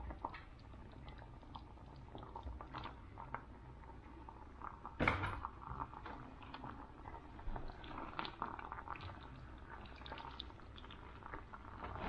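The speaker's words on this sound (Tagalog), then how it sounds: "kumukulo na siya" Pot of pasta water at a rolling boil, a steady bubbling and gurgling throughout, close and moderately quiet, with one brief knock partway through.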